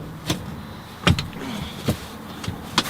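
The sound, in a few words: 2016 Ford Explorer seat being folded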